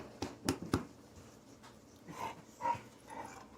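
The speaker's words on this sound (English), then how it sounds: "Timber, who are you even barking at?" A dog nearby gives a few short, sharp yips and whimpering barks, scattered and fairly faint, over a quiet background.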